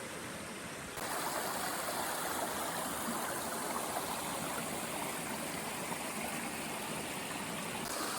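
Clear river in northern Tasmania rushing over rocks, a steady broadband wash of flowing water, close and loud, with no voices.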